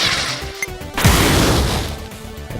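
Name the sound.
RPG-type grenade explosion in video game Pineapple Smash Crew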